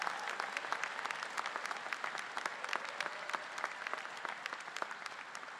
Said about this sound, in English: I'd ask all of you to give them a nice round of applause